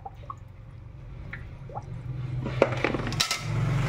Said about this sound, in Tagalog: hinuhugasan ko yung bigas ng 2 beses para for sure na matatanggal yung mga alikabok